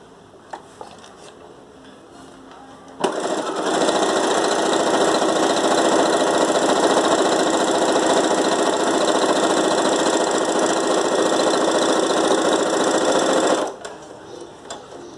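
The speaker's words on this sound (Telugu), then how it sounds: "నెక్స్ట్ ఏంటంటే మనం స్టిచ్చింగ్ స్టార్ట్ చేద్దాం." A Brother FS 101 sewing machine stitches cotton cloth in a steady, fast, mechanical whir lasting about ten seconds. The sound is loud and close, with faint handling noise before it starts and after it stops.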